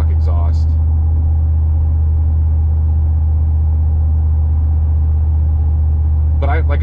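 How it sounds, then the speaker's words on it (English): Steady low exhaust drone inside the cab of a lowered GMC Sierra pickup fitted with a Speed Engineering catback exhaust, constant and moderately loud throughout, with brief higher sounds at the start and end. "you can hear a little exhaust"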